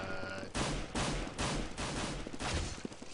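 Gunfire in a Counter-Strike pro-am esports match: about six loud, sharp bursts of shots in quick succession, spaced roughly half a second apart, filling the short stretch.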